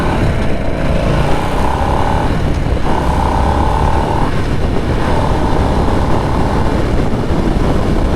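A 2024 Harley-Davidson Nightster Special RH975S motorcycle cruises on a demo ride in sixth gear, its engine droning loud and steady under heavy wind rush with faint tonal rises, no talking.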